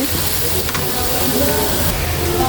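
Grated mango goes into melting sugar in a pan for mango pickle and sizzles as a loud, steady hiss that fills the whole moment close up.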